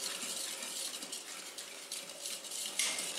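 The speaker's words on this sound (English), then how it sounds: "And then just violently whisk this." Ingredients are whisked briskly in a bowl, a continuous fast metallic scraping and clinking at moderate volume with no voices.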